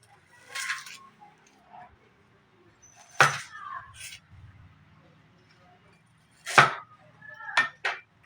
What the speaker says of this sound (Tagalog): ang next na hiwain natin ay sibuyas